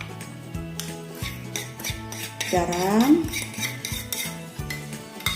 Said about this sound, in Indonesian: Sekarang kita lanjutkan ulek bumbu.